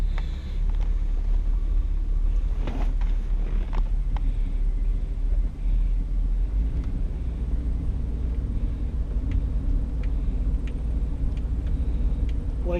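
An unrestored 1963 Buick Wildcat with a 401 nailhead V8, heard from inside the cabin while driving, gives a steady low engine rumble and road noise, with small knocks and rattles throughout.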